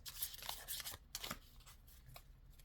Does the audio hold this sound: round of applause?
no